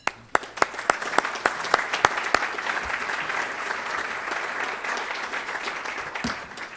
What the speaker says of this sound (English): Let's give them all an applause